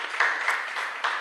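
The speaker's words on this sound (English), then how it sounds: "So please give me a round of applause." Audience applause at a talk event, a brief burst of clapping for just over a second with no one speaking.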